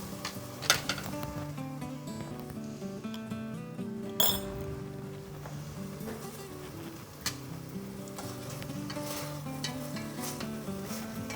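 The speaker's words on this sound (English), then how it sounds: "so we're gonna let this cook. Just stirring." Garlic stirred in a hot pan, with a steady sizzle and frequent light clinks of a utensil against the metal, plus a few sharper knocks, all close and fairly quiet.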